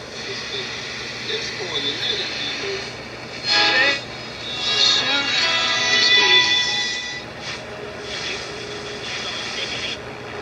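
Crackly, hissy sound from an old Warwick 2-55 tube radio loudspeaker running on low B+ voltage, with faint muffled tones and a steady low hum, rising in brief louder bursts.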